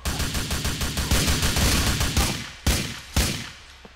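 SMG gunfire in Grand Theft Auto IV in Liberty City: a fast, loud automatic burst of evenly spaced shots rattles for about two seconds, then trails off into a few separate single cracks with short gaps between them.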